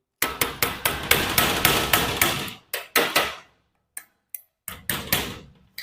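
Metal hammer blows knock off a worn latch from a protective valve, a close, loud series of sharp impacts in quick rhythmic runs, then a pause and a few scattered strikes resuming toward the end.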